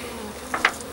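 Honeybees from a package being installed into a hive outdoors in the rain give a soft, steady buzzing hum, with two short louder buzzes near the end of the clip and no talking.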